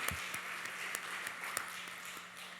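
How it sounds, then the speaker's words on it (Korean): Congregation applause during a Sunday church worship service, a steady wash of many hands clapping at moderate distance with occasional sharper claps standing out, no voices over it. "다시 하나님께 영광의 박수 크게 올려드리겠습니다"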